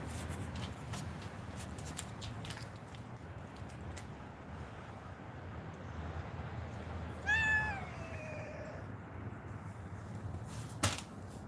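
A single drawn-out cat meow rises and falls for about a second, moderately close, set against steady low room noise with faint scattered clicks before and after.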